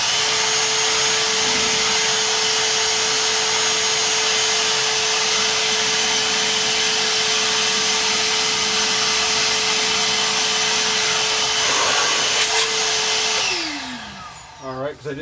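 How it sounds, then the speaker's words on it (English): A vacuum cleaner roars loudly and steadily up close for several seconds, then winds down as it switches off. "I'm going to turn on my vacuum and just get some of the dust here"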